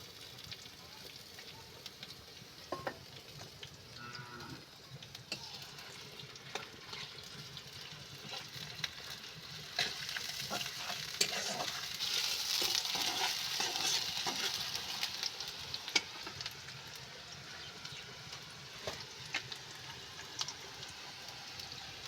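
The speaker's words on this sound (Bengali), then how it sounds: "তেল গরম হয়ে গেছে এবার পেঁয়াজগুলো দিয়ে দেবো" Onions hit hot oil in a pan and sizzle with a crackling hiss that swells as they are stirred, with scattered utensil clicks, while a person talks intermittently over the cooking.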